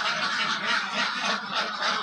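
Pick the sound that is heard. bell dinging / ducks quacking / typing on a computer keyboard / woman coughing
ducks quacking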